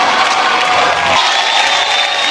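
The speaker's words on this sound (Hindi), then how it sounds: "तालियां होनी चाहिए।" Loud, dense applause from a large crowd at a comedy awards show, mixed with cheering and shouts, sustained and steady throughout.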